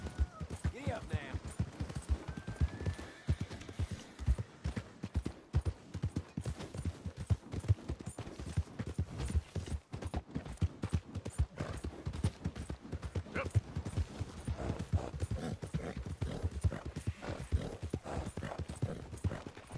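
A horse gallops in a PS4 game, its hooves thudding in a fast, continuous rhythm, close and loud for the whole stretch, with some talk mixed in.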